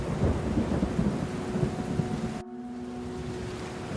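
A thunderstorm pours heavy rain with deep rumbling thunder that cuts off abruptly, then steady rainfall continues at a lower, even level.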